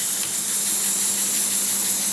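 Steam hissing out of a slightly faulty pressure cooker's whistle as a steady, loud, unbroken rush with no pauses.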